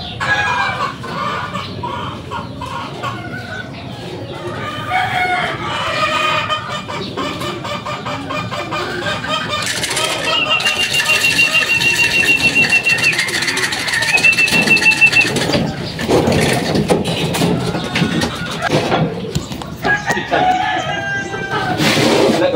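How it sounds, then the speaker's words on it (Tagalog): Racing pigeons arrive at a loft after a 40 km club training flight, with bird calls, fluttering and clucking from nearby fowl beneath loud, near-constant talk. "Yan yung ibon natin mga kadapaw, si Marie tsaka si Kulatoy."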